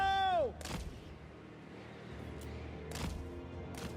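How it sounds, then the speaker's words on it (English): A mortar round lands in a fantasy battle strategy game, a sharp impact followed by scattered distant booms and thuds of artillery under a low battlefield rumble. "That was a good mortar hit, actually."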